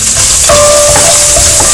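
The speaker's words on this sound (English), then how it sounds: "put your garlic and your onions to saute" Garlic and onions saute in hot vegetable oil for a Hokkien rice casserole, a loud, close, steady sizzle with a brief scraping stir partway through, no talking.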